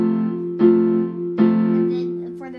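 Piano chords ring out clearly, with three sustained chords struck one after another, each held and decaying, played close and alone.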